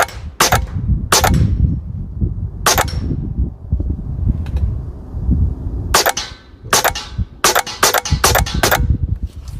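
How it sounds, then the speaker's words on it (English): Huben K1 airgun fired in quick double taps at a small 2-inch steel paddle target, sharp cracks and metallic pings in pairs and clusters, close and loud with quieter handling noise between. "Right now I'm shooting at a 2-inch little paddle target, little steel target, and just double tapping it."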